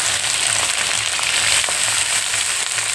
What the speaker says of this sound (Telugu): దొండకాయలు కోసి పెట్టుకున్నాం కదా, వేసేసుకున్నామండి. బాగా వేగించాలి.